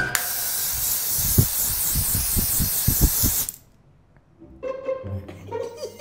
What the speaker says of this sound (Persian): اول از همه باید اسپری کنم به صورتم.